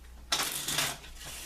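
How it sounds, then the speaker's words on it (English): Cards from a Cartomancer poker deck being shuffled up close: one dense riffling rush of about half a second that starts sharply and then tapers off, with no voices. "So we're going to start shuffling the cards,"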